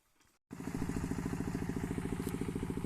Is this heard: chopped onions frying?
no